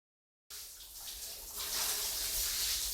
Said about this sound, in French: dépêche-toi de prendre ta douche